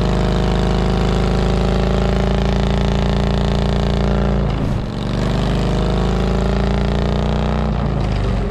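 Harley-Davidson Road King V-twin engine held at a steady 3,000 RPM, a loud, continuous, throaty drone with strong rumbling harmonics, dipping briefly midway before settling back at the same pitch.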